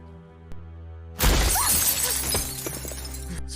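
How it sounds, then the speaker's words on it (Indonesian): A car window shatters when a thrown rock hits it, with a sudden loud crash and then scattered glass fragments tinkling and settling over a low background hum. "ada seseorang yang melempar batu ke arah kaca mobil itu sampai pecah"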